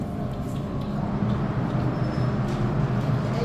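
An MTR Island Line train pulling into a Hong Kong underground station, a steady low rumble and rolling drone that swells slightly as it nears, with faint metallic squeals over it and no talk.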